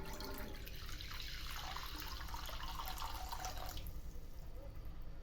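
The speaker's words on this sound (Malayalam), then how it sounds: "നമുക്ക് വെള്ളം ഒഴിച്ചു കൊടുക്കാം" Water pours steadily into a pan set on a stove, a continuous splashing stream that ends near the four-second mark, leaving faint background noise.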